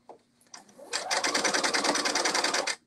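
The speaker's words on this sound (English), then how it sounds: "Stitch all the way around." A sewing machine stitches a seam on a novelty kimono, starting with a couple of clicks before settling into a rapid, steady mechanical chatter for about two seconds, close up, then stopping abruptly.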